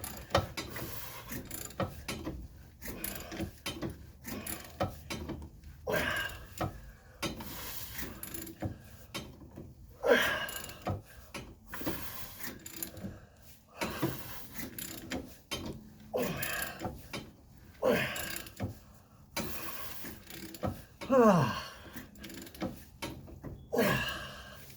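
A wrench works a stuck bolt on a car suspension shaft, giving repeated metallic ratcheting clicks and scraping bursts in an uneven rhythm, close by and moderately loud, with no talking.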